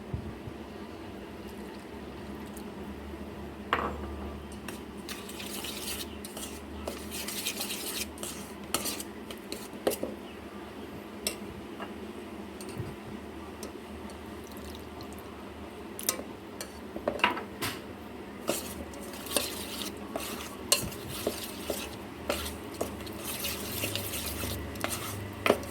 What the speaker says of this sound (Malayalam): ആവശ്യത്തിന് പാലൊഴിച്ചിട്ട് നമുക്ക് ഇളക്കാം.